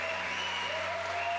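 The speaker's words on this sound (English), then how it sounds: "let's give Ray a big round of applause" A crowd at the La Sportiva Legends Only 2018 bouldering event applauds for a climber, a brief burst of steady, close clapping.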